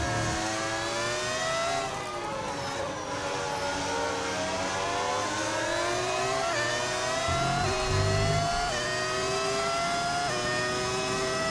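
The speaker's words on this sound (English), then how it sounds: "It is a mod that turns my engine into a V10." A modded V10 engine in the F1 25 racing game screams at high pitch, its revs rising and falling through gear changes at a steady, loud level throughout.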